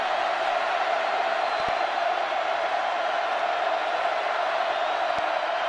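A football stadium crowd roars with a loud, steady, dense wall of cheering that holds unbroken throughout.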